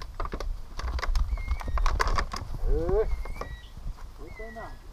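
On a farm, a horse over 30 years old stands near a young mule and a pregnant mare, with hoof clops and shuffling, then a short whinny near the end, as people talk close by.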